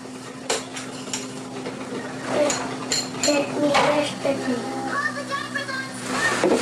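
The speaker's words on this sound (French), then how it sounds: "moi je fais la vaisselle" Dishes being washed by hand in a home kitchen, with pots, pans and cutlery clinking and clattering at irregular intervals close by while people talk in French over the sounds.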